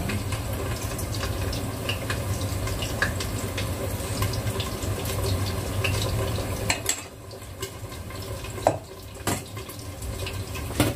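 A kitchen tap runs steadily into a sink as a home cook prepares food, a continuous close splash that thins and drops in level partway through as the flow is turned down, with a few clinks near the end.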